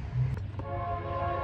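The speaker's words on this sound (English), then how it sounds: "here comes the train" A passing train rumbles low and steady with a sustained horn tone, moderately distant and faint, heard without any talk.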